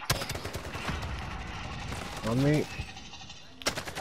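Rapid gunfire in a video game shooter, a dense rattle of shots running under game noise and a voice speaking, with a short sharp burst again near the end.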